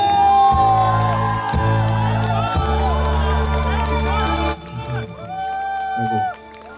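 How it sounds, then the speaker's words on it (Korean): Applause and cheering from an outdoor crowd at a live pension stage show with singing, lasting several seconds over music, then fading to near silence. "같이 박수와 함성"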